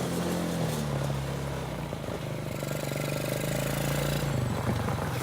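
Quad ATV found in the trash, engine running steadily and fairly loud throughout with a throaty mid-pitched drone and slight shifts in pitch, no talk heard.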